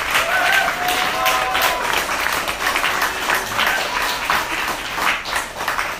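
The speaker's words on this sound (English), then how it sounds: "Let's get a round of applause for all of our panelists." An audience at a panel event on building the solidarity economy in New York City breaks into dense, sustained applause that holds steady for several seconds, with a faint murmur of crowd noise mixed in.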